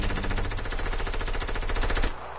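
An SMG fires in a video game, a rapid, steady burst of close, loud shots rattling for about two seconds before cutting off abruptly.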